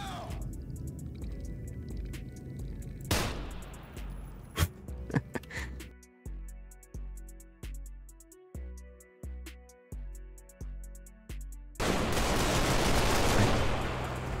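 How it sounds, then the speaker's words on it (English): Trepang2 gunfire: a few scattered shots and impacts, then a steady, evenly spaced run of about a dozen punchy bursts, ending in a loud, noisy wash of firing. "Wait, I'm shooting a fucking gun."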